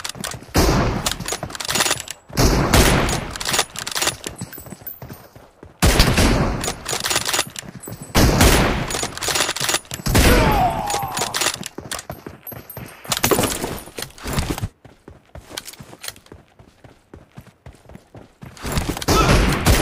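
Rapid bursts of automatic gunfire in a shooting video game, loud repeated volleys of sharp shots separated by short pauses and clicks, continuing throughout.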